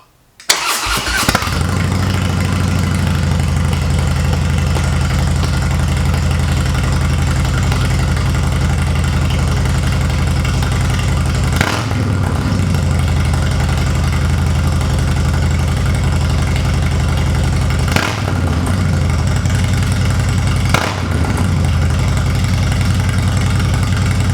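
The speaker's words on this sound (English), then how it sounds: "That sounds like a real Dyna now, man, a real Harley." A Harley-Davidson Dyna Low Rider motorcycle with turnout exhaust fires up and settles into a loud, steady, deep idle, with a few brief revs breaking the rumble.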